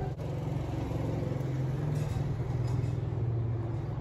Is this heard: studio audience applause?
no